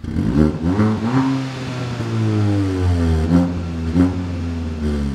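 A Kia Ceed GT's flapped exhaust revs loudly and repeatedly in sport mode, with a deep, throaty rumble swelling and easing several times, close by and with no talking.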